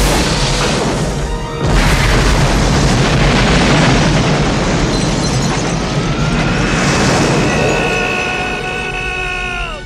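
An airplane exploding in a film scene, a loud booming blast with a sudden crash at the start, then a long rumbling roar of fire and debris fading out under whistling, falling tones.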